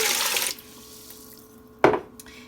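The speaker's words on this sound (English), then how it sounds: "So I'm just gonna put some water in" Tap water pours into a cooking pot of chicken for a broth, a loud rushing stream that cuts off, then a short second splash of pouring bursts in near the end.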